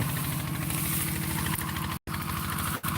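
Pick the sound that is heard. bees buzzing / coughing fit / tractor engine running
tractor engine running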